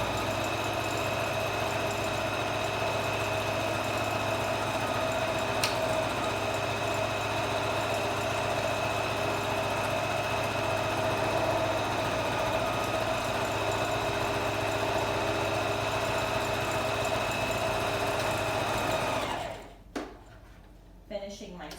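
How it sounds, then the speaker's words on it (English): A sewing machine stitches a fabric tote bag with a steady, continuous motor whir and rapid mechanical hum that runs for a long stretch, then stops abruptly near the end. "I'm just going to sew it right now."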